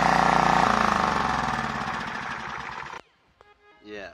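Homemade generator engine running loud and close, its revving steady and then gradually easing before cutting off abruptly, followed by faint clicks and a brief rising mechanical whine.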